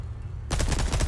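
Burst of rapid video game gunfire starting abruptly midway, loud, dense and close, with no talk over it.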